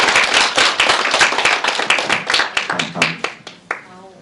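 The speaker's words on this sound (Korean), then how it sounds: "큰 박수로 맞이해 주시기 바랍니다." Seminar audience at a spring-semester parents' information session applauds a presenter being introduced, dense sustained clapping from many hands that thins out toward the end, with a faint voice underneath.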